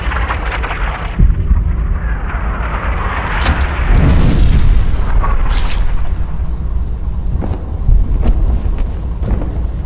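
A single sharp rifle shot cracks out in Sniper Ghost Warrior, followed by a couple more reports and a heavy boom under a low ambient drone, moderately loud over roughly ten seconds.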